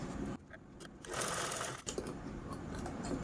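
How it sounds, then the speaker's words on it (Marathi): Sewing machine stitching along the folded inner edge of a blouse-piece fabric, a steady close mechanical whirr that pauses briefly near the start, then runs continuously with a short break before resuming. "यावरती आपण स्टिच पण करून घेऊया"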